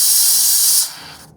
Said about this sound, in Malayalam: കുക്കറിൻ്റെ ആദ്യത്തെ വിസിൽ വന്നു.